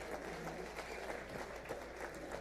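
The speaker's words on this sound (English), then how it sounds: "Another round of applause for our speaker." Applause for a speaker at a legislative retreat of county assembly members, a fairly faint but continuous spread of clapping from a crowd, steady throughout without voices.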